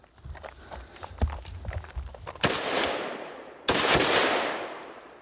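A Kalashnikov rifle fired in single shots, two sharp loud reports, each followed by a long decaying echo, after a stretch of scattered footsteps and shuffling knocks.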